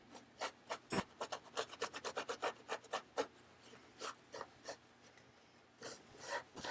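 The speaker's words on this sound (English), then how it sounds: "I use the cloth to scrub on it and get all that ink off of there" A cloth scrubs ink off a metal stamp plate in a rapid series of rubbing strokes, close and dry, with a brief pause before the scrubbing resumes; no talk.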